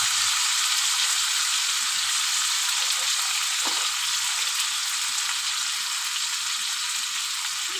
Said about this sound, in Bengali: হালকা একটু ভেজে নেব, স্বাদ মতো লবণ দেবো।